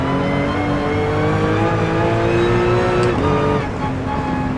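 A RUF CTR3 race car in a video game accelerates hard, its engine roaring loud and continuous with a rising pitch, then a brief drop at a gear shift before it climbs again.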